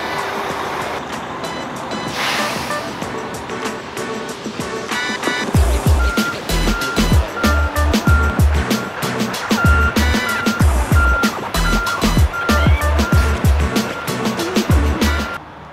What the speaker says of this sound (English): We are almost ready to back the truck up with all the materials on it